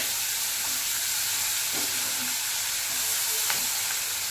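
Chopped ginger and onion hit a hot pan for a chicken stew with whole spices, giving a steady, close sizzle and hiss with a few faint stirring clicks and no voices.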